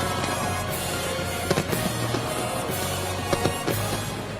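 Fireworks burst over Asian countries at the New Year 2025 celebrations, with a steady crackling rumble and several sharper bangs rising out of a dense, continuous barrage.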